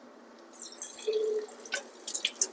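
Cold water is poured over cooked millet pasta, giving quiet splashing and dripping in short, uneven bursts that build toward a few brighter drips near the end.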